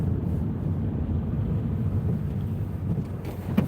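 Steady broadband wind roar and road rumble inside a car driving on the M61 motorway on a windy Christmas Day in the UK, continuous and fairly loud with no speech.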